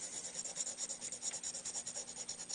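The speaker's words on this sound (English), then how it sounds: "so file just a little bit more" Steady rhythmic rasping of a metal file, quick back-and-forth strokes repeating evenly at close range with no voices.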